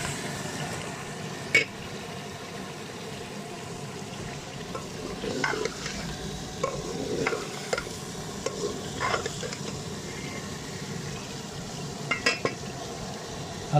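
A spoon works chicken through spiced masala in a hot pan, with scraping and clinking strokes and a soft sizzle underneath, close and moderately quiet.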